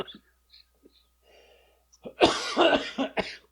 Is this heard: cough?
yes